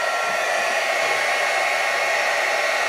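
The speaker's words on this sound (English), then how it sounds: "And I'm going to zap it with my heat gun." A heat gun blows steadily at close range for embossing on an oriental-style stamped red, gold and black art piece, a continuous even rushing hiss with no pauses and no talking.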